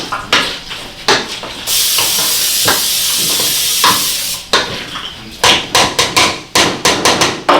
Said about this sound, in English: we're going to keep mashing and mixing this mixture together